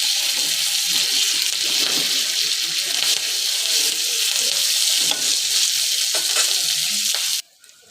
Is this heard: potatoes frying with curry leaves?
yes